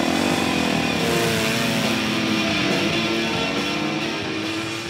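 Motorcycle riding on a racing track in the Bastia area of Corsica, its engine droning loud and close at steady high revs throughout, with no talking.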